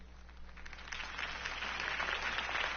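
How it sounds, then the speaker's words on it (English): Crowd applause following a campaign speech in a Batman video game: a steady wash of clapping that swells slightly and holds, moderately distant and soft, with no talk over it. "If only Mr. Wayne, my campaign's largest backer, could have heard that applause"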